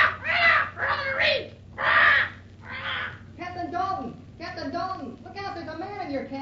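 Parrot squawking in a radio drama, a run of harsh, raspy bird calls in quick succession, close and loud, with the later squawks more tonal and chattering.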